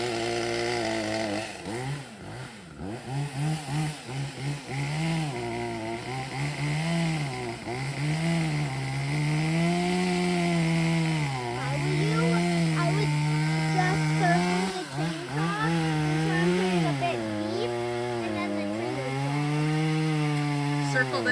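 A chainsaw cuts into a Christmas tree on a homestead, its motor pitch rising and falling repeatedly as the chain bites and eases off, with people talking intermittently nearby.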